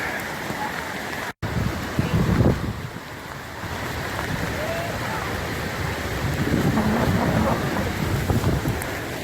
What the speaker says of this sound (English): It's really starting to rain now